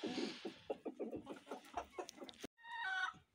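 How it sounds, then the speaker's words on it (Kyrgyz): Seven-month-old Adler chickens clucking close by in a rapid run of short, repeated calls, followed by a brief higher squawking burst after a short break. "Жети айлык Адлерский деген тооктор."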